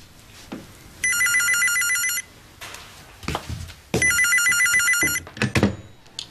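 A home telephone rings indoors with two loud electronic bell bursts, each about a second long and separated by a short pause, with light household movement between rings.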